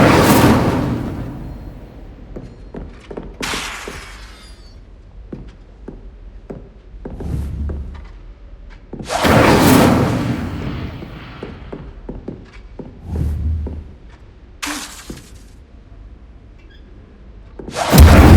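The Incendio fire spell goes off repeatedly in Hogwarts Legacy, loud whooshing bursts spaced several seconds apart over thuds, taps and game ambience.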